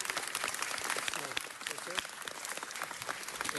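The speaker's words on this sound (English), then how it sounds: "Let's give Mitch a round of applause." Steady applause from an audience at a city council meeting, dense clapping filling the space, with a voice speaking over it.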